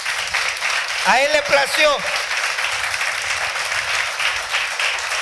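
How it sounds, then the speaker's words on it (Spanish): A church congregation claps at a Sunday service, a sustained round of applause throughout, with a voice speaking briefly over it. "Dale palmas fuertes al Señor."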